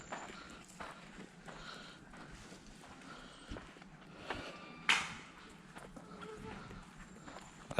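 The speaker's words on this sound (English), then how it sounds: "I just heard a horse." Horse hooves clip-clopping somewhere on a Florida vacation outing, faint and irregular beneath steady crowd chatter and nearby voices.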